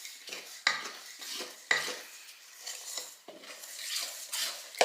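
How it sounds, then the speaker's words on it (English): A spoon stirring bread dough of bread flour in a bowl, with irregular scraping strokes and sharp knocks against the bowl's side, close and moderately quiet with no talking. "Stir that up good."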